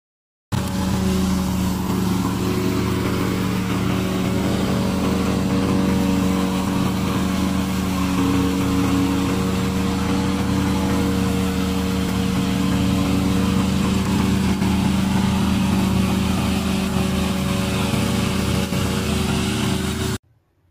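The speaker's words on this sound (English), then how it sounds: "This is our remote controller mower." A remote-controlled lawn mower's small engine runs steadily and fairly loud, a continuous droning hum with a slight buzz that holds even from start to finish with no talking.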